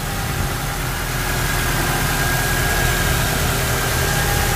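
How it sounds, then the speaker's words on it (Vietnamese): A 1993 Nissan Bluebird with electronic fuel injection idles smoothly up close, a steady, even engine hum with a faint high whine, running continuously with no talking. "Máy nổ rất êm,"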